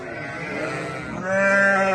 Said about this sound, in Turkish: Koyunlarımızı ahırımıza getirdik.